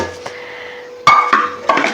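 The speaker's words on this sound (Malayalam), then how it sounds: "ഈ സിങ്കൊക്കെ ഒന്ന് മുഴുവൻ പാത്രമൊക്കെ കഴുകി" Dishes and utensils are washed in a kitchen sink, with a few sharp clinks and clatters of metal and crockery after a quiet start, loud and close.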